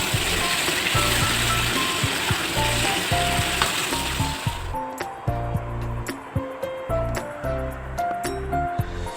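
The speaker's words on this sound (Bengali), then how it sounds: "এইবারে আমি তেলের মধ্যে গাটি কচুটা দিয়ে একটু ভেজে নেব।" Pieces of taro fry in hot oil with turmeric and salt, a dense crackling sizzle that thins out partway through into sparser pops and clinks of a utensil against the pan.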